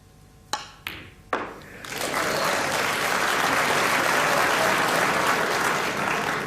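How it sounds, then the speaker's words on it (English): Audience applause at a 1984 Crucible snooker match between Steve Davis and Jimmy White, a few sharp ball clicks at the start, then a dense, sustained ovation swelling up and holding loud to the end. "Wait for the applause."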